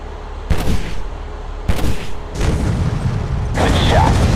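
Gunfire and heavy booms in the mobile shooter game Modern Combat 3, coming in three loud bursts that each sustain a rumbling, crackling barrage, with the last stretch the densest and loudest.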